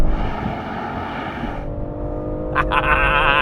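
A BMW M340i pulls hard off the line in a drag race, its engine roaring loud and close with a rising tone, then briefly easing off at a gear change before climbing again.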